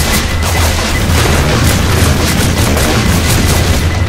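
A pipe bomb detonates in Left 4 Dead 2 during rainy gameplay, producing a loud, dense barrage of booming blasts and crackling impacts that continue without a break.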